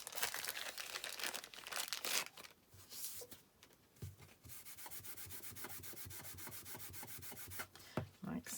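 An embossing buddy is rubbed briskly over card stock while a stamped Christmas foliage card is prepared, a close, dry scrubbing with rapid repeated strokes that pause briefly before resuming in a steady rhythm.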